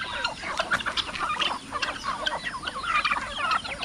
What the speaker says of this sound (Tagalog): manok natin mga kaprobinsya oh.